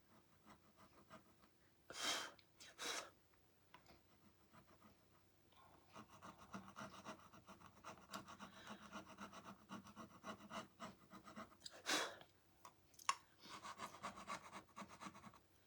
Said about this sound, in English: So just scraping at the bottom of it, you can kind of see that it's coming up a little bit better.